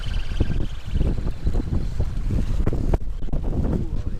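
Strong wind gusting across open water off Ocracoke Island, North Carolina, a constant loud roar buffeting the microphone with steady rumbling surges throughout.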